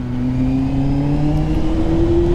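Honda Hornet motorcycle engine revving steadily, its tone rising slowly as the revs climb, close and continuous with no talk over it.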